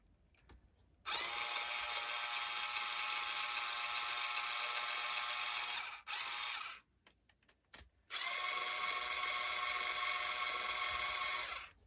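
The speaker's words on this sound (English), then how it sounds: "I'm going to use an electric screwdriver" Electric screwdriver whirring loudly in two long sustained bursts, separated by a short burst and brief pauses, as screws are driven into a small quad cart during assembly.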